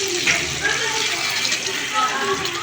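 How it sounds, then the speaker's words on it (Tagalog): Water pours into a pan of pork steak cooking with garlic, onion and marinade, a steady splashing fill with a voice talking over it. "dagdagan po natin ng konting tubig para lumambot pa yung pork"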